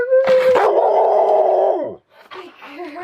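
A dog howls loudly and close by in a long sustained wail for about two seconds, then breaks off before softer whining yips follow.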